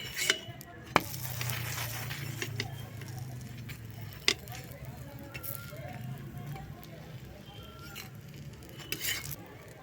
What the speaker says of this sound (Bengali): এইভাবে আমি বাকি পরোটাগুলো সব ভেজে নেব একে একে